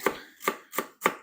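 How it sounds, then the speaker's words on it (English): A knife slices celery thinly on a cutting board, four crisp, evenly spaced chops about every 0.4 seconds, close and distinct. "So the way I cut celery, split it like this."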